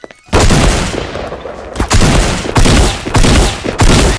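Loud shotgun blasts in a Garry's Mod deathmatch, a heavy opening boom followed by several more close, booming shots at irregular intervals of about half a second to a second.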